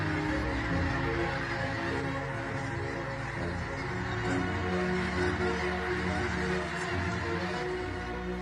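A huge flock of about half a million migrating snow geese packed along a Missouri tributary of the Mississippi in mid-November, giving a continuous dense roar of honking calls with no pauses.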